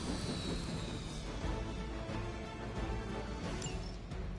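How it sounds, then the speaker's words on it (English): Helicopter going down in Marvel's Midnight Suns, a dense, steady roar of engine rumble and crashing debris with a faint rising whine, loud and continuous throughout with no voices. "You've grounded the helicopter."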